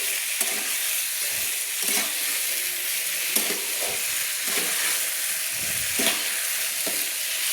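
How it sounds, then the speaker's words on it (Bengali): Mati aloo (yam) sautés with spice masala in a pan, giving a steady close sizzle broken by repeated scraping stirs. "আমি মেটে আলুগুলোকে মশলার সঙ্গে কষিয়ে নিচ্ছি।"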